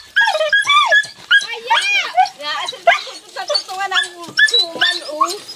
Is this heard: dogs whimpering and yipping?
yes